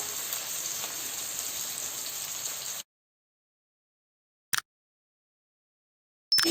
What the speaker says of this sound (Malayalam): ഇനി നമ്മളിതിലേക്ക് അരിഞ്ഞു വെച്ച സവോള ചേർക്കുന്നു.